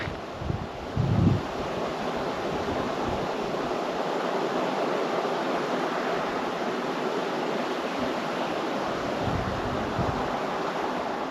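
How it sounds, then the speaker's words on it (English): Whitewater rapids on the Rio Grande near a New Mexico campground rush in a steady, distant broadband roar, continuous and unbroken after the wind has died down, with a faint low thump near the start. "The wind has totally died, and now you can actually hear the rapids down there."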